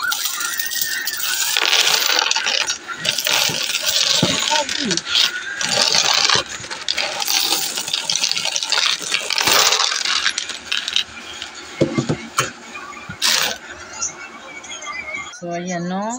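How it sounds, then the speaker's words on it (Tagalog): Peso coins being counted and dropped by hand, a dense, continuous metallic clinking and rattling that runs loud throughout, with heavier clatters now and then as coins pile up. "bibilang na naman ako ng barya guys"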